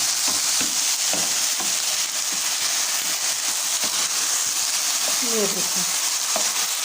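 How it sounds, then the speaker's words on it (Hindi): Sweet rice (mutanjan) being stirred in a pan gives a steady, close hiss and sizzle with soft scraping strokes throughout, and a voice speaks briefly near the end. "अच्छे तरीके से मिक्स कर लेंगे।"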